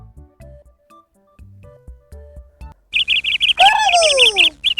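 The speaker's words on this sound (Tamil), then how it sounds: "குருவி." A sparrow chirps in a quick, loud, close series of bright tweets after a stretch of soft musical notes.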